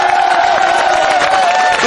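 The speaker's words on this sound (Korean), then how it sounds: "다시 한번 감사의 박수 부탁드립니다." A rally crowd outdoors at a train station roars and cheers loudly and continuously, a dense wall of voices with clapping blended in.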